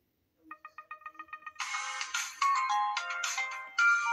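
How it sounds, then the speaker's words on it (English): A cell phone's shutdown tone: about ten quick, evenly spaced soft beeps, then a brighter, louder chiming jingle of several bright notes, heard clearly on its own. "You will be hearing the startup and shutdown sounds in my ringtones and sounds video"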